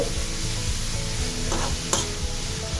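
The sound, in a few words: stirring carrots in ghee in a pan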